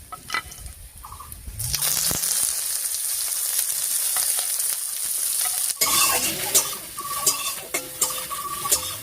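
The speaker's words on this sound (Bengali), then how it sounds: "কালো জিরার শুকনো লঙ্কাটা একটু ভাজা হতে থাক" Dried red chillies and nigella seeds frying in hot oil as a tempering for spinach, giving a steady, close crackling sizzle that swells after a quieter start and runs continuously to the end.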